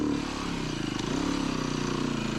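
A Beta 390 RR S four-stroke dirt bike ridden along single track, its engine a steady, close, buzzing drone throughout with no talking.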